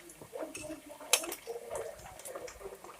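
Spaghetti with tomato sauce stir-fried in a pan, with soft scraping, stirring and light clinks of a utensil against the pan, plus one sharp metallic tick, all at low level.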